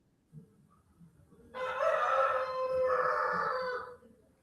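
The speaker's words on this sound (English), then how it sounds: "you hear my pet rooster?" A neighbour's rooster crows in the Peruvian jungle, one long, loud cock-a-doodle-doo lasting over two seconds after a brief faint call.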